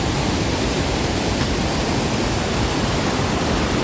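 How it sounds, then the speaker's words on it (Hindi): Glacier meltwater rushes along a mountain stream beneath a footbridge on a Himalayan valley trek, a dense, loud, unbroken roar of flowing water that holds steady throughout. "और ये रहा पूरा ग्लेशियर्स का पानी बहता हुआ"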